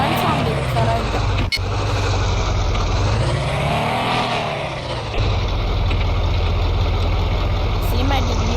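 A Ferrari's engine idles in Indian Car Driving 3D, a steady mid-pitched hum with a brief dip and swell partway through, loud and constant, with a voice talking over it.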